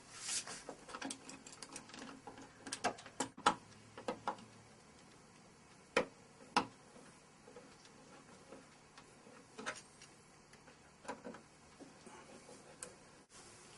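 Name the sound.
swivel electrician screwdriver driving screws in RV plug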